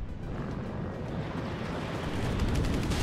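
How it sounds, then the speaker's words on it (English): Anti-tank weapons fire in the real-time strategy game WARNO as a dense, rumbling barrage of booms and blasts that holds steady and grows slightly louder toward the end. "AT does start firing, though."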